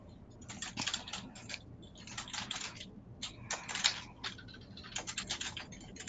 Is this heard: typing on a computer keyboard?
yes